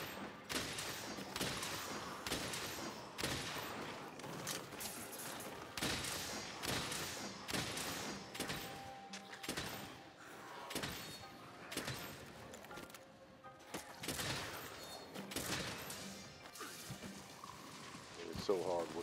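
Repeated gunshots from a gun in Monster Hunter World form bursts of sharp, loud reports spread across the clip, with a person talking between and over the shots.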